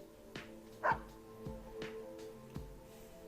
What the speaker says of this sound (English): Snowy barks once